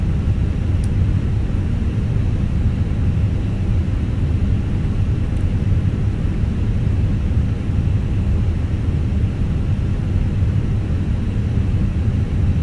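A steady, loud low rumble of Airbus A321 engines and cabin noise holds without a break throughout, as in a flight simulator session at Punta Arenas preparing for takeoff.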